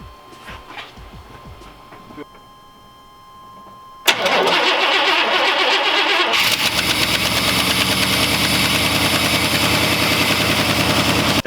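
A 1995 Chevy 350 V8 cranks after a fuel pressure diaphragm replacement, catches and roars to life, then settles into a loud steady run with a rapid rhythmic pulse, heard close up with no talk.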